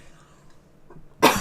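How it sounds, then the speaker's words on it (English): A single sharp, loud cough from a man at the end, after quiet breathing and faint throat noise. "Sorry, I just got a big cough."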